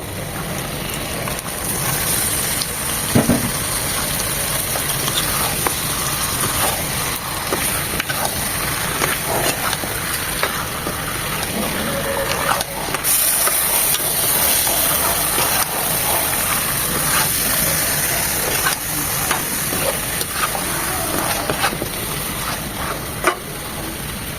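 Beef hitting hot oil and spices in a pot for beef khichuri, a steady broad sizzle with stirring scrapes running throughout, close and continuous with no talk.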